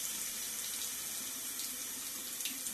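Tap water running steadily into a sink, an even hissing splash that holds constant and fairly quiet for the whole stretch, with no voices.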